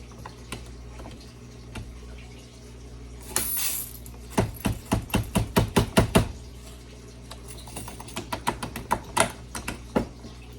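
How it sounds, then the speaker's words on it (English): Shotgun pellets are poured into a 20 gauge shell over a cork cushion wad, giving a quick run of sharp, close metallic ticks and clicks in bursts, fairly faint against a quiet background. "Making sure I get all my pellets in there."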